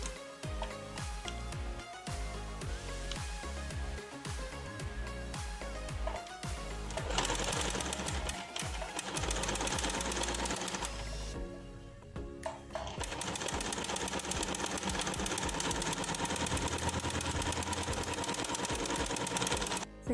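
Sewing machine stitching a hook and eye in contrasting thread, a steady rapid mechanical whirr running throughout with short pauses and restarts, close and fairly loud, with no talking.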